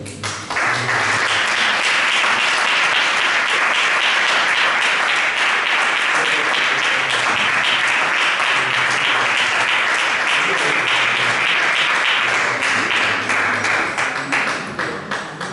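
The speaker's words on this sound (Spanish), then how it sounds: "Dale un fuerte aplauso a Dios." A church congregation gives a loud, sustained round of applause lasting the whole stretch, dense steady clapping from many hands at a harvest festival service.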